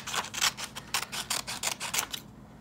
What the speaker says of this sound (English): So I'm gonna take my scissors and I'm gonna